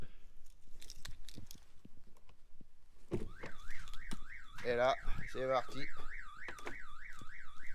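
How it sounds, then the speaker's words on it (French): A camper van's car alarm starts wailing with a looping, warbling siren, loud and continuous, after a few clicks and a voice speaking briefly. "là j'ai mis l'alarme."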